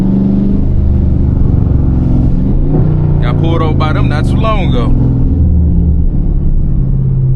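Loud, deep exhaust rumble from a 392 Scat Pack car droning close throughout, with a brief rev, while the driver talks over it.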